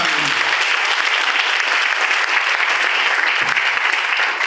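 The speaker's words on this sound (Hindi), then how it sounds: "मैं चाहूंगा सर के लिए एक बार शानदार और जानदार तालियां।" Dense, steady applause from a large audience fills a banquet hall at a motivational show, continuous and loud throughout with no pauses.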